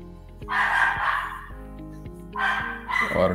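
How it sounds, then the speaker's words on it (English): Several dogs barking in bursts, two loud clusters of yips and barks near the start and end, with a steady low hum underneath. "You just heard my dogs."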